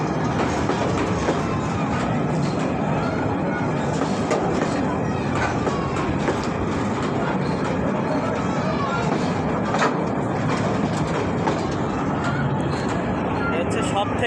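A large freight train hauling stone rolls past close by in a steady, dense rumble with rhythmic clatter of wagons over rail joints, continuous for the whole stretch.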